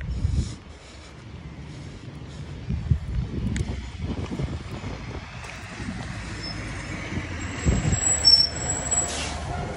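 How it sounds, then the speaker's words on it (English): Loud truck passing nearby: a rumbling engine swells and rolls past with low thumps and a brief air-brake hiss, then fades into steady traffic noise. "it's a loud-ass truck going to come and mess up my audio. Here it comes."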